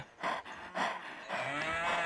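A cow in the survival game Survivalcraft 2 lets out a few short moos followed by a longer, drawn-out low, close and clear with no talking.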